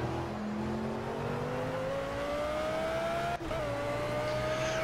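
Audi race car engine heard from the cockpit in Project Cars, a steady rising drone that climbs smoothly through the revs, with a brief dip near the end before pulling on, loud and continuous with no talk.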